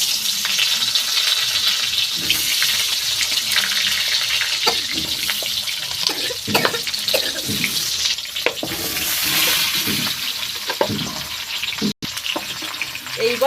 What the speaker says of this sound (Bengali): এইবার আমটা ভালো করে ভেজে নেব।